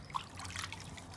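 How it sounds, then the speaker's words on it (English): Warm water trickling and dribbling while terracotta flower pots are rinsed by hand, a faint, steady running sound close by with small splashy bursts. "the first thing you do is you just rinse them in some warm water"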